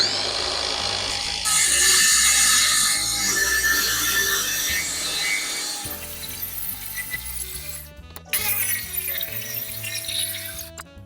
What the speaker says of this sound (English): I'm going to get out my new Makita cordless saw here